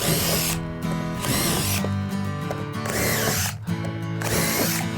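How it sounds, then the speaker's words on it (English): Power drill whirring in several short bursts, each spin-up revving then stopping as it pre-drills small holes in wood, close by with brief pauses between holes. "If I had a nail gun, I'd just shoot them, but I do pre-drill them"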